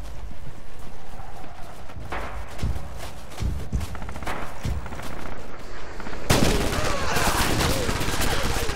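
Rifle gunshots in Red Orchestra 2 crack out as a string of separate sharp reports mixed with distant battlefield firing. A louder, denser burst of fire erupts near the end.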